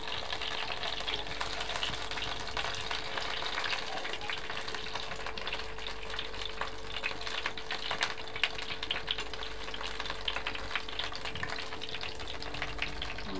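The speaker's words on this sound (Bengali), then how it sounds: "এগুলো ভাজা হয়ে যাচ্ছে, নামিয়ে নিচ্ছি।" Stuffed pointed gourd dolma fries in hot oil, giving a steady, close crackling sizzle with occasional stirring and small bubbling pops throughout.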